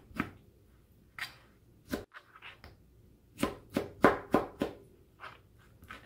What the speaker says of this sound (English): And we're just going to slice these down.